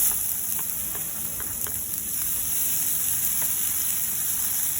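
Close, constant sizzling of garlic and onion frying in a hot pan, with a few faint clinks.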